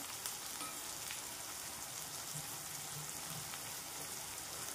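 Spices frying in hot oil in a pan for aloo matar, a steady soft sizzle and crackle that holds at a low, even level throughout.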